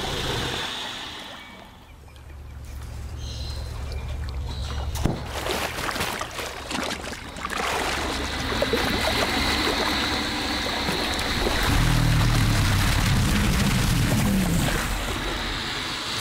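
A male American alligator bellowing in breeding season to claim territory: a deep, rumbling low drone that swells over water noise and grows loudest near the end, with no voices.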